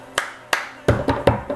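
Cup song rhythm: two crisp hand claps followed by three quicker taps on a cup, close and clear with no talking.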